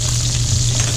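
Shrimp and sausage brown in a pan for paella, giving a steady, loud, close sizzle of frying with no talk.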